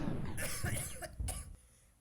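A person coughs several times in quick succession on an osu! catch tournament stream, close and fairly loud, with the coughing tailing off at the end.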